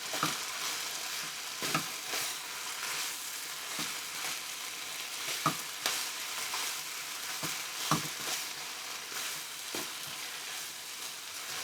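Moo shu pork stir-fries with green onions in a pan, sizzling steadily at low volume, with occasional scrapes and clanks as the food is stirred and tossed.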